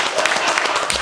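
A studio audience at a comedy talk show bursts into applause, dense continuous clapping close up for a brief moment.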